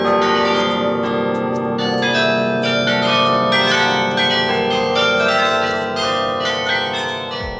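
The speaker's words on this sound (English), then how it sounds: "At this level, the sound is so incredibly loud, giving you a real sense of the power behind the carillon." Carillon bells ring loudly inside the belfry bell chamber in Bruges, sustained overlapping metallic tones sounding close and continuous throughout.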